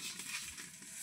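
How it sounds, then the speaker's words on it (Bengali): Puffed rice (muri) roasting in a pan over a strong village fire makes a soft, continuous hissing crackle, faint and fairly even throughout. "কত সুন্দর করে কিন্তু মুড়িগুলো কিন্তু ভেজে নেওয়া হচ্ছে"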